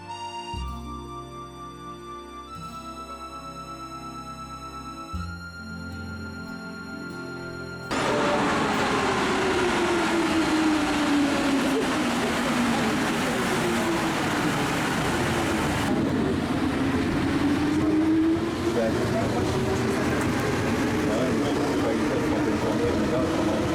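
Paris metro train on the move, a loud continuous rumble with a rising and falling whine filling the second half, after an opening stretch of music.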